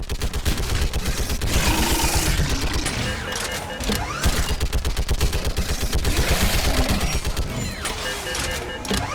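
Gunfire in the video game Mass Effect 3, a dense, continuous barrage of rapid automatic shots, loud and close, with shouted voices briefly heard over the battle.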